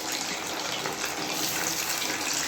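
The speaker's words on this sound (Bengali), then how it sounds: "এই যে ভেজে ভেজে তেলটা একদম ছেঁকে মা তারপরে এখানে ভেজে নিচ্ছে, সাদা তেলে কিন্তু ভাজতে হবে।" Pitha sizzling as it deep-fries in white oil, a steady broadband hiss and crackle that stays loud and even from start to finish, with no voices.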